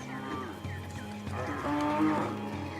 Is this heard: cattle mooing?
yes